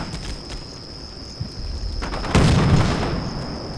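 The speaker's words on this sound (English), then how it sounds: "Our tank is giving fire over here in this building still." A tank fires its main gun at a building in Combat Mission Shock Force, a single muffled boom swelling up partway through over a thin, steady high whine and low background rumble, with no voices.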